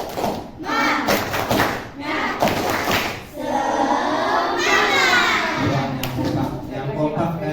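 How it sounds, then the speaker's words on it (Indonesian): Elementary school pupils in an upper-grade classroom perform a rhythmic spirit chant, sharp hand claps and thumps at the start giving way to loud group shouting and chanting voices filling the room. "Tepuk semangat."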